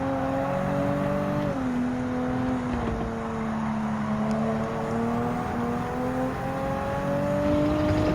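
A McLaren 650S Gr.4 race car accelerating at Suzuka in Gran Turismo 7, a steady engine drone whose pitch climbs, drops at gear changes and climbs again, close and loud with no talk.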